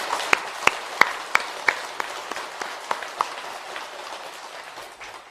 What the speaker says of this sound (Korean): 큰 박수 한번 칩시다.